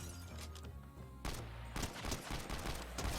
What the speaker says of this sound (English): Well, I've got to shoot you then